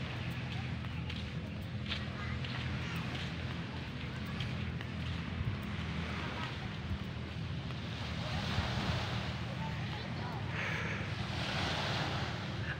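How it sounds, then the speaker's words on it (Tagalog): Wind gusts buffet the microphone over a broad rushing roar after rain, with surf-like wash in the background and faint voices at times. "Malamig ang simoy ng hangin."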